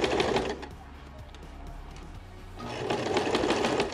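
A sewing machine runs a 5/8-inch seam on a skirt in two close bursts of rapid whirring stitching, pausing briefly between them, with no talk over it.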